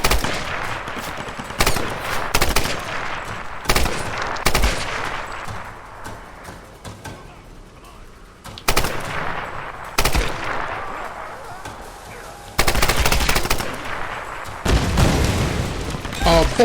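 Gunfire in the video game Tomb Raider (2013), loud bursts of shots and booms in clustered volleys with brief quieter gaps between them, with no voices heard.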